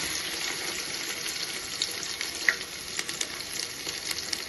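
Shallots and curry leaves frying in oil for a Nellore-style sambar, a steady low sizzle with small crackles and pops scattered through, close but fairly quiet, no one talking.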